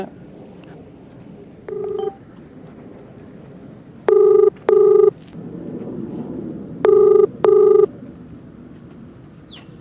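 An outgoing phone call rings unanswered: paired electronic ring tones sound loudly in short bursts, one faint burst followed by two double rings, over a low background hum.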